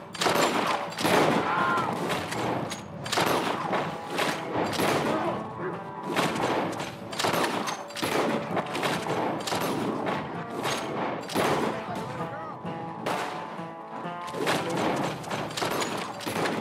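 Gunfight in the video game Red Dead Redemption, dense repeated gunshots and rapid volleys cracking loudly and continuously, with thuds and impacts mixed through the steady barrage.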